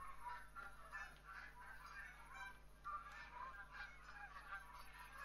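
Geese in the hunting game theHunter: Call of the Wild honk repeatedly in a faint, distant chorus, with calls overlapping steadily over a low background hum.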